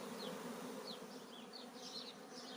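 A honeybee swarm buzzing continuously, a steady droning hum from many bees with individual bees passing close by, heard alone without talk.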